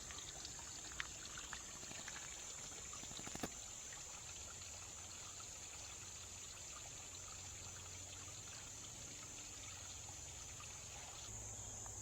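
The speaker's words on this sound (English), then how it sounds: "a little brook," A little brook in a shaded arboretum, trickling faintly and steadily, with insects chirring softly alongside and a single brief click partway through.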